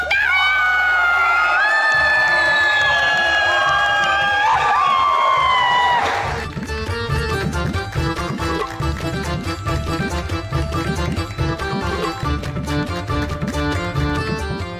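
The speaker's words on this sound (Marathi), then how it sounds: "टाळ्या" A crowd bursts into loud applause and cheering with whoops and shouts for about six seconds, then an energetic music track takes over and carries on to the end.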